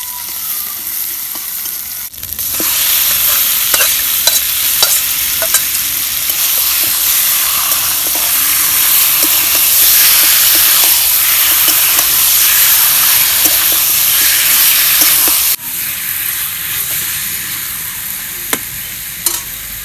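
Chicken pieces being sautéed in a pot for chicken pulao, a loud continuous sizzle and hiss with faint stirring scrapes, the sizzle dropping back briefly at the start and end.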